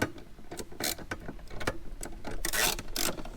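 A wrench or ratchet tightens two M6 bolts on a fuel kit bracket in a vehicle wheel arch, giving quick repeated mechanical clicks and metallic rasps close to the listener, with no talking.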